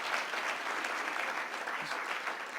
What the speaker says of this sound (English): could we just give these young men one more round of applause